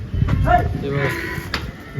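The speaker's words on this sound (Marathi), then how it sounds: "म्हशी एकच नंबरच्या क्वालिटीच्या म्हशी आहेत" Water buffalo mooing at the Dhule buffalo market, a deep drawn-out low with a second short call near the end, close by amid background crowd murmur.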